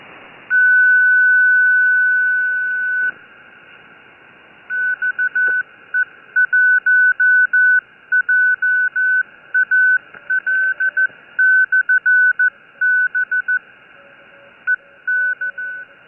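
A loud, clear single-pitch tone keys on and off in Morse code patterns on the 80-meter ham radio band, with a fainter lower tone blinking beneath it over quiet hiss.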